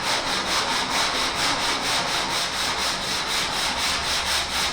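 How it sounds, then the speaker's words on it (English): Steady, continuous hand sanding of wood with a sanding block, a rhythmic back-and-forth rasp with an even, regular stroke, close and fairly loud, no voices. "You want the biggest block for the area you're sanding."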